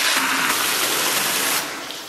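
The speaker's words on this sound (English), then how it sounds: "Transfer to a large bowl, fill with water." Water gushes steadily from a tap into a large bowl of diced napa cabbage, a loud continuous splashing fill that tapers off slightly near the end.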